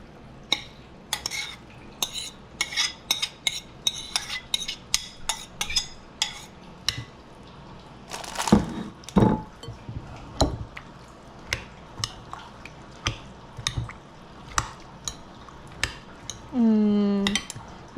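Sheepshead ceviche ingredients being mixed in a bowl, with repeated close clinks and scrapes of a utensil against the bowl and soft wet squishes, ending with a brief louder rattle.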